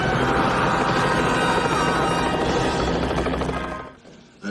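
A helicopter in a film scene, as a judge is thrown from it on the way to the United States: loud, steady rotor and engine roar fills most of the moment, then drops away sharply near the end.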